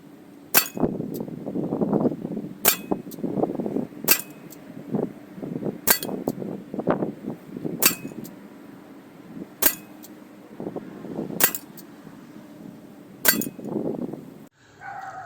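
CO2 air pistol shots striking metal targets, with eight sharp metallic pings spaced about every two seconds. Each one rings over a softer, rustling background.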